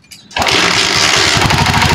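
A Honda TMX 125 motorcycle with an electrical fault kick-started, catching after a short quiet moment and then running loud and close with a steady, rapid pulsing engine note.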